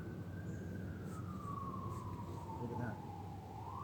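An ambulance siren wails in a long, slowly falling tone over heavy rumbling background noise, steady and moderately loud throughout, with no clear speech.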